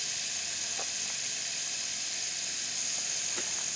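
Constant bright sizzling of meat frying in a Dutch oven, a steady hiss with a couple of faint clicks and pops, no voices.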